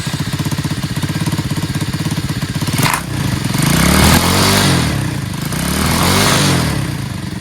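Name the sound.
Tao Tao 125cc ATV quad engine running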